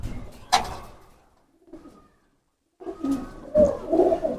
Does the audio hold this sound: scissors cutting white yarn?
no